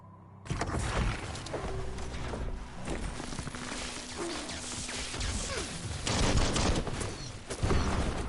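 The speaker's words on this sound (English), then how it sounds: "Bullets everywhere." Gunfire in the game Biomutant arrives as dense, rapid bursts of shots and impacts layered over a busy, rumbling din, growing heavier toward the end.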